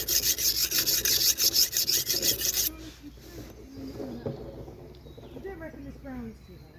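A blade being hand-sharpened gives a rapid, rhythmic scraping rasp for a few seconds, then stops, leaving quiet room noise with faint bird calls.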